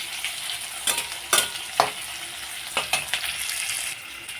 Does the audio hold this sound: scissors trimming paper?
no